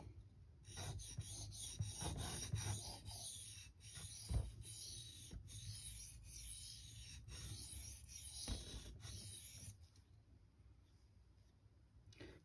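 Knife bevel sharpened on a King Neo 800 whetstone, a close, steady rasping scrape in back-and-forth strokes that fades out near the end.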